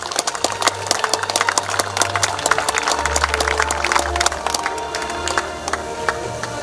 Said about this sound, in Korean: 역시 큰 박수 주시기 바랍니다.